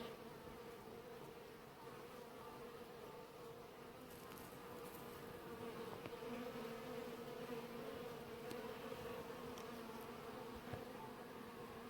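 A swarm of honey bees drones steadily around a hive the morning after swarming, a dense continuous buzz held at even loudness throughout, with no voices.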